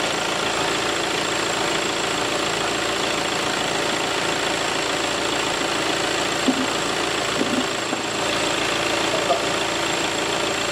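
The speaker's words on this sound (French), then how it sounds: "on ne coupe pas le moteur" A VW Tiguan 2.0 TDI diesel engine idles with a steady, even drone and a faint knocking rhythm, continuous and unchanging at moderate loudness during a diesel particulate filter cleaning.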